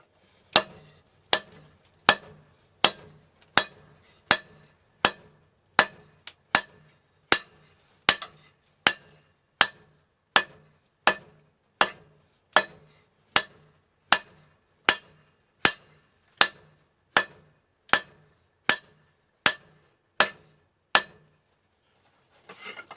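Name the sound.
hammer forging hot steel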